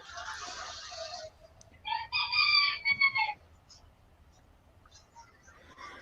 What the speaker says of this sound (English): I think got a rooster in the background.